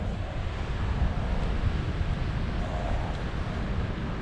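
A roughly ten mile an hour headwind buffets the microphone during a paragliding flight, a steady low rumbling rush of wind noise with no voices.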